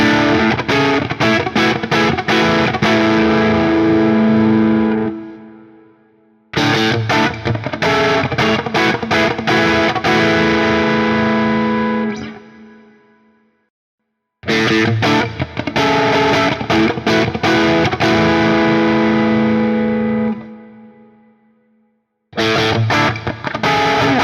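Distorted electric guitar through a Strandberg Prog neck pickup in blend mode, single-coil-like tone, playing several loud riff phrases with chugging chords and sustained notes, each cut off by short silences, played alone.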